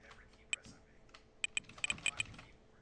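Keys tapped on a computer keyboard locked by filter keys, each press giving a sharp high beep; one isolated press, then a quick irregular cluster of about seven beeps, faint and close.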